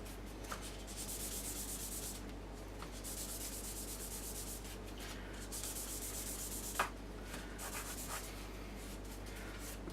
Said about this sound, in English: Rubbing it on something flat like this table.